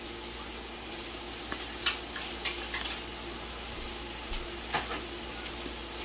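Shallots, celery and garlic sizzle in a hot pan while a utensil stirs them, giving a steady frying hiss with a few sharp scrapes and clinks against the pan.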